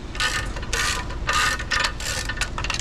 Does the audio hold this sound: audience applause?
no